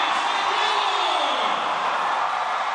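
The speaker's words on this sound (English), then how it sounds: "To the delight of the home team crowd." Home-team crowd at a volleyball match cheers in a steady, sustained roar that swells and then gradually eases, filling the space without any single voice standing out.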